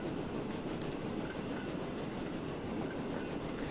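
The Devon Belle train in Transport Fever 2 rolls downhill on the South Coast line with a steady rumbling roar and faint clickety-clack of wheels, continuous and alone.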